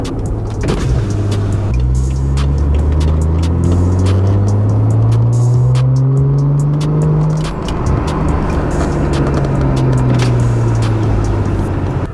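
A BMW F10 535i engine revs and pulls through several gears while driving, pitch rising and dropping in long sweeps, loud and close, with wind buffeting.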